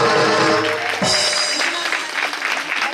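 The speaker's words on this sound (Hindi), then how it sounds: "जोरदार ताली बजा के स्वागत करो" A crowd at a Bhagwat Katha claps loudly in welcome, the steady hand patter blending with musical tones and a sustained hum in the background.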